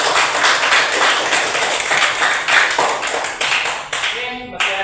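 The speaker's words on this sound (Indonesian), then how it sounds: "tepuk tangan untuk Ihsan." A classroom of students claps for a classmate, a dense run of many hands close by, steady and lively for several seconds before thinning out, with a voice briefly heard near the end.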